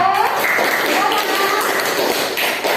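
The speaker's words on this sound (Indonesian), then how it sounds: "Tepuk tangan dulu untuk Mega." Children in an Indonesian primary classroom clap for a classmate. The quick, light claps form a steady patter under a teacher talking.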